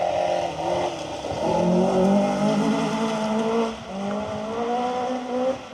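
Peugeot 205 rally car on a forest stage of the Roger Albert Clark Rally, engine note rising and falling through gear changes as it revs hard, loud and fairly close throughout.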